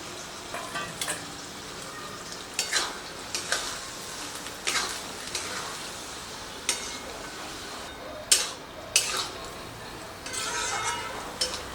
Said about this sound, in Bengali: ছোলাটা দিয়ে 2 মিনিটের মতো আবার আমি কষিয়ে নিচ্ছি মশলার সাথে